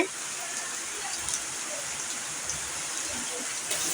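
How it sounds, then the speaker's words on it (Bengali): Steady rain falls in a continuous broadband hiss with scattered soft patters, even and unbroken throughout. "আজকে সারাদিনই বৃষ্টি হচ্ছে"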